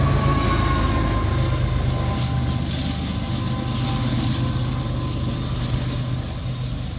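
A Union Pacific freight train with tank cars of liquefied petroleum and denatured alcohol and a DPU on the end rolls past near Oak Harbor, Ohio, its loud, steady rumble and wheel noise continuous and close throughout.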